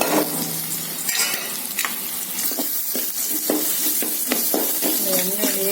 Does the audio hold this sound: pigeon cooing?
no